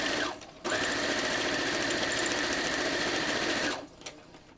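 A sewing machine stitches pinned quilt rows in one steady, loud, continuous whir lasting several seconds, then stops, with a short pause before it starts.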